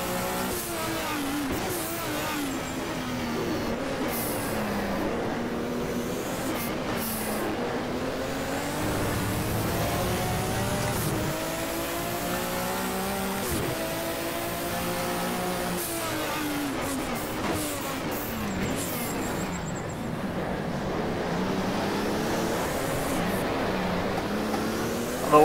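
Turbocharged M1 race car engine in the rFactor racing simulator at Norisring, droning loudly and steadily with rising and falling revs through gear changes, continuous throughout with no talk.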